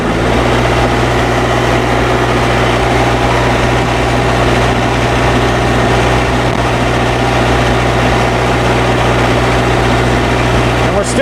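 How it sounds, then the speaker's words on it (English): Bobcat 773 skid steer diesel engine running steadily at a raised idle, a loud, close, continuous low rumble with constant droning tones and no break. "I'm going to turn up the idle a little bit"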